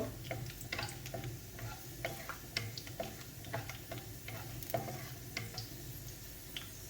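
Raisins frying in ghee in a pan on low heat, a quiet crackle of small irregular ticks and soft sizzling pops, with occasional stirring scrapes close by.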